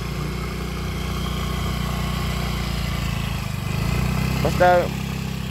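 A newly purchased motorcycle idles steadily nearby with a low, even engine drone throughout, while people talk over it and a brief horn-like tone sounds near the end.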